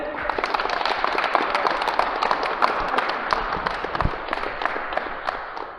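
Loud, dense applause from a crowd at a youth national all-around sports competition awards, steady and continuous throughout with a murmur of voices underneath.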